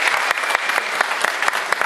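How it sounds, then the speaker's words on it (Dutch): An audience applauds a performer at a show on Texel, dense, continuous clapping from a sizeable crowd with a few sharper claps standing out. "Applaus voor Laura met haar Mary Corrietta"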